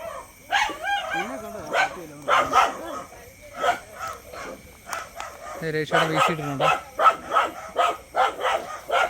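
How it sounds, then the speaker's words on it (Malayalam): A dog barks in repeated sharp bursts near a flooded Kuttanad paddy field where a fishing net is being cast and hauled in, and people talk between and over the barks. "ഈ പട്ടി ഭയങ്കര ശല്യം കേട്ടോ"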